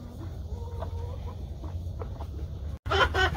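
Hens cluck softly and intermittently nearby in a coop, including a broody Ameraucana, over a low background rumble, followed by a brief louder burst of sound at the end.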